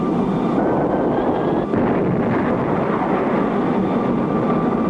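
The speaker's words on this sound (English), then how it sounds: "I'm going to pop in the afterburner." A jet plane's afterburner roars as a steady, loud, dense rush for the whole stretch, with a brief dip partway through.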